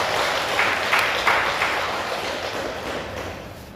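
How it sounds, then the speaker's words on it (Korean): Applause from the congregation at a Buddhist temple dharma service in Danyang, a steady broadband clatter of many hands that holds fairly even and slowly fades over a few seconds. "다시 한번 큰 박수 부탁드리겠습니다."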